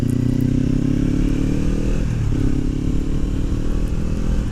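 Kawasaki Ninja 400 fitted with an Akrapovič exhaust riding along a road, a steady loud engine drone mixed with heavy wind rush, continuous throughout with a brief dip midway.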